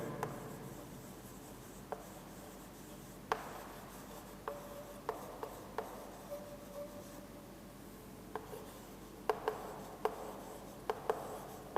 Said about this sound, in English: Let me write down that statement.